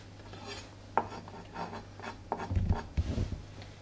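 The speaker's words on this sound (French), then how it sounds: "Pour couper, sans vous couper les doigts, vous faites des petits fagots, pas trop gros." A knife cuts small bundles of vegetables on a board, making a run of soft rasping strokes and light taps close by, with no talk.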